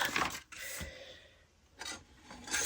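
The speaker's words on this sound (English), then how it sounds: "So let us trim the top." Trimming the top of a mixed-media junk journal cover produces a few close, dry rasping cuts in uneven strokes, separated by short quiet gaps.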